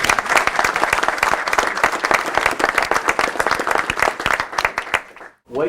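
Sustained audience applause fills a press conference held by Tennessee business supporters, steady dense clapping from many hands that carries on for several seconds before dropping off abruptly near the end.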